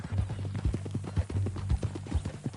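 Horse hooves from the video game Red Dead Redemption II clop in a steady, even rhythm at close range over a low sustained hum.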